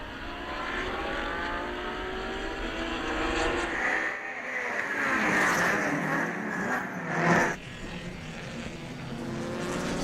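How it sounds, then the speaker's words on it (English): GRIDLIFE Touring Cup race cars at Gingerman Raceway roar past, the engine noise swelling to a loud peak as they pass nearby, then fading into a steady distant drone. "Listen to the sounds and watch the sights of Sunset Racing at Gingerman Raceway."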